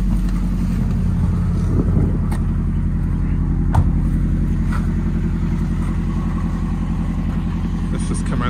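A modified 2010 Subaru Impreza WRX 2.5 with quad exhausts idles with a steady, deep rumble and exhaust burble, accompanied by wind buffeting the microphone and faint talking nearby.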